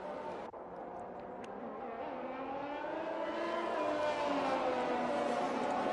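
A pack of F1 race cars roars at the start in Brazil, engines rising from a steady growl into a loud, sustained high-pitched wail as they accelerate together.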